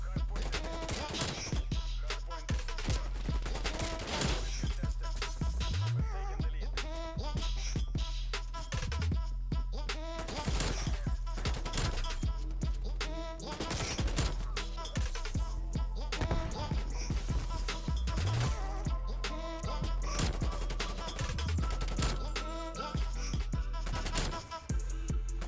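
Krig 6 assault rifle fire in Black Ops Cold War, with rapid loud bursts of gunshots repeating almost continuously over dense game noise and a few brief lulls.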